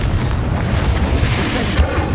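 Spell explosion from the Confringo fire-blast in Hogwarts Legacy, a dense, sustained booming roar with heavy low rumble and crackle running steadily through the short span, loud and close with no gaps.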